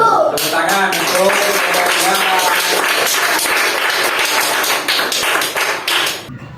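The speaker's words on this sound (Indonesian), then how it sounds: "Tepuk tangan untuk" Audience applause in an Indonesian school or class setting, a dense, steady burst of clapping at close range that runs for several seconds before tapering off at the end.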